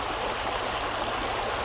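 River water rushing over stones at a narrow crossing, a steady, loud, broadband gush heard up close with no talk.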